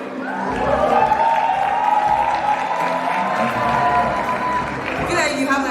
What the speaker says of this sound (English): Can we hear a cheer for him?